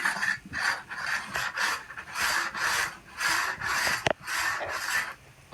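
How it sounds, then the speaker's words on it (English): Rhythmic rasping strokes of a plastic scraper drawn lightly along a ski's metal edge, about nine even back-and-forth passes close up with a brief sharp click near the end, no talking. "So we're just going to lightly scrape that metal edge."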